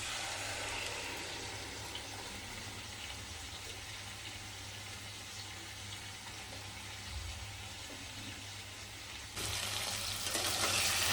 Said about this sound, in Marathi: ती ग्रेव्ही आता आपल्याला या तेलामध्ये टाकून द्यायची आहे